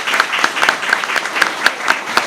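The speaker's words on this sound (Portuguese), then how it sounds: "E eu peço aqui uma salva de palmas para ele." A small audience at a press conference claps in a sparse, fairly quiet patter, with a handful of distinct hand claps standing out over the softer background clapping.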